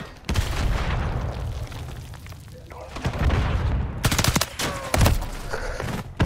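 Close, loud gunfire in a multiplayer shooter comes as a few heavy, booming shots and short volleys with echoing tails, while players talk over it.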